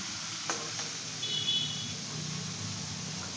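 Soybean curry masala sautés in oil in a pan, a soft steady sizzle with occasional stirring scrapes and faint ticks, fairly quiet and continuous.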